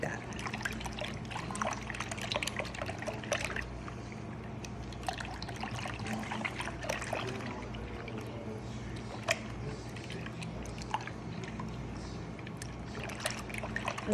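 Sourdough ingredients are hand-mixed in water, giving a faint, steady sloshing and trickling with scattered small splashes.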